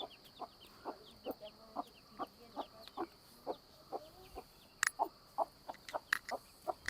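Hens cluck in a rhythmic series of short, fairly close calls, with a few sharper squawks near the end, some of them laying eggs.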